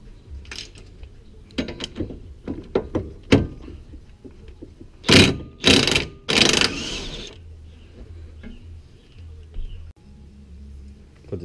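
A socket wrench works a 22 mm nut under a Nissan 240SX S13 while fitting an angle kit, with short scattered ratcheting clicks and metallic clinks, then a few louder rattling bursts amid quiet garage ambience.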